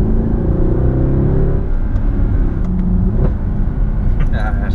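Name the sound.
Mercedes C63 AMG V8 exhaust popping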